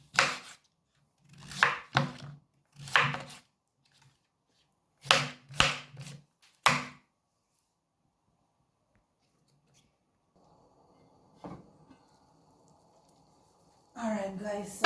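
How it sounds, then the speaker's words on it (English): A knife cuts up pumpkin on a board for Jamaican goat head soup. About eight crisp, close chops come in irregular clusters, followed by a quiet stretch and then a brief burst of louder sound at the end. "So I am just cutting up my pumpkin to toss it along in the pot"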